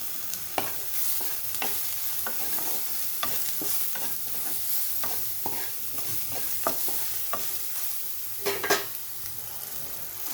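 Brinjal frying in a pan with salt and turmeric, a continuous sizzle broken by frequent scraping stirs and spatula knocks, close and fairly even throughout.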